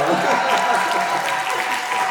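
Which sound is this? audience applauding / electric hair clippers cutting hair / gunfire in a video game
audience applauding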